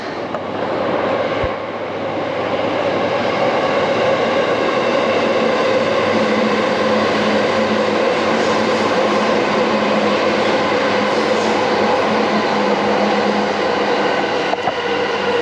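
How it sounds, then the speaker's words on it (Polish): A Yamanote Line train rolls past in Tokyo, a loud, steady rumble and rushing roar of rail cars that stays close throughout after a brief click near the start. "Patrzcie, jedzie Yamanoto Sen."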